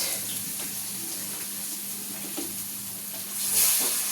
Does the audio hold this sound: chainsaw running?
no